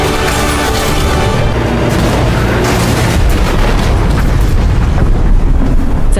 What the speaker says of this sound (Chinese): 武装分子见状迅速集结火力，对着卡车疯狂轰炸